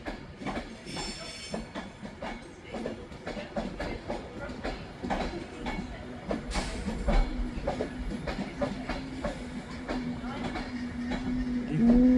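A train from London Euston pulls into Manchester Piccadilly station, with steady rumbling wheels, clickety-clack over rail joints, bursts of hiss and a rising squeal of brakes as it slows, fairly close under faint station background.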